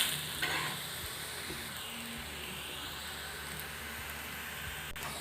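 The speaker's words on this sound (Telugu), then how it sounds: "ఈ విధంగా 2 వైపులు కూడా బాగా చక్కగా కాల్చుకోవాలి" Aloo paratha roasting on a hot pan while both sides brown, giving a steady close sizzle with some stirring-like scrapes, heard alone without talk.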